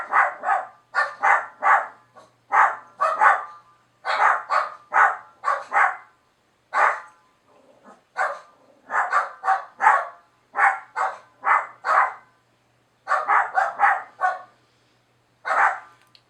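Guard dogs bark in a castle, firing off short repeated bursts of loud, close barks in an uneven rhythm with brief pauses between volleys and no talk.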